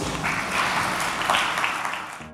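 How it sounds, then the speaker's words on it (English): Conference audience at a CEO summit in a hotel hall gives a round of applause, a continuous wash of clapping that swells slightly midway and holds steady to the end. "How about another round of applause?"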